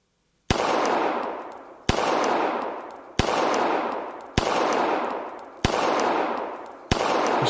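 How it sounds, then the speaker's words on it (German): Six evenly spaced single gunshots in the VR shooting game Practical Shooting, each a loud sharp crack trailing into a short reverberant decay, fired alone with no talking. "Ich schieße das Ding jetzt einfach mal leer."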